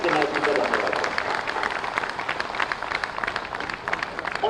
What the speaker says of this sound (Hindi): तो हम तालियों की गड़गड़ाहट से योगी आदित्यनाथ जी का धन्यवाद।